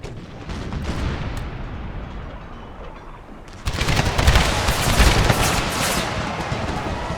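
An American Civil War battle game rumbles with artillery and massed gunfire, a steady crackle that jumps louder halfway through into a dense, roaring volley.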